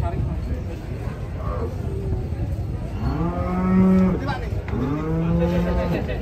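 Large, agitated cow lowing loudly several times while being loaded onto a truck, two long harmonic moos in the second half, over a busy background of voices and crowd chatter.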